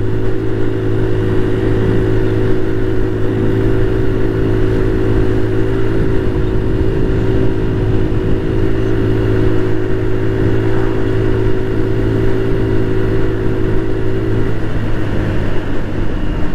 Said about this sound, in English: Lovely way to start your morning is get on your scooter or motorcycle and go out for a nice little country ride.